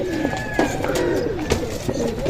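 Young pigeons in a loft coo in repeated soft throaty phrases, several overlapping calls close by over a low background rumble.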